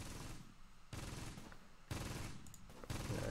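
Gunfire in Close Combat: loud bursts of rifle and machine-gun fire come in roughly four distinct volleys, each starting sharply and rattling on for about a second against the battlefield background.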